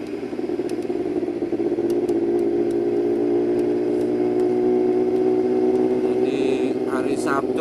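A Yamaha YZF R6 sport motorcycle fitted with a Shadux exhaust runs nearby in a steady, loud droning hum that holds nearly constant throughout, with a few clicks and a short burst of other noise near the end.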